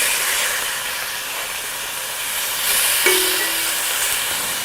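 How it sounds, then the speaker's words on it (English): A sole fillet sears in a hot pan with a loud, steady hiss, and a brief higher tone briefly rises above it midway. "So now sear your sole"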